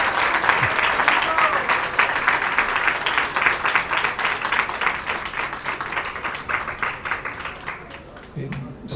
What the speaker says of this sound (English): I think he deserves another big round of applause.